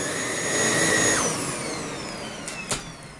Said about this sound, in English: So we're done vacuuming the room.